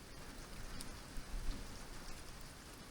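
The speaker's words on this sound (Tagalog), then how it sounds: "Kaya kapag may ganito ulan, yan, masaya po kami." Soft, steady rain patters and hisses evenly on a surface, faint and continuous, with no other sounds standing out.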